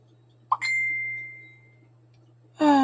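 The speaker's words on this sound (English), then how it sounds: "Yeah, there are wind chimes in the background." Wind chimes ringing outdoors: a single metallic strike with a long ringing tone that fades over about a second, then another bright chime cluster enters, over a steady low hum.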